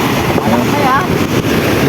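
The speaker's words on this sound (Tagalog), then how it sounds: "Lakas ang alon." Strong, rough sea waves on a choppy coastline, a loud continuous rushing wash mixed with wind buffeting the microphone, with people talking over it.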